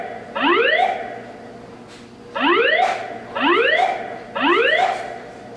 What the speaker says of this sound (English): There has been a fire alarm reported in the building.